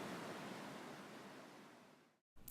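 Ocean waves wash in a steady, broad roar that slowly fades over about two seconds, breaks off in a brief silence, then returns at the end, with no voices.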